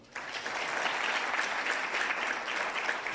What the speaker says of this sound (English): Can we clap hands for that?